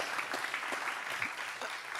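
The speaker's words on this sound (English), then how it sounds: "please clap it up for that" A conference audience applauds, a short burst of scattered, moderately close clapping that stays fairly even for two seconds.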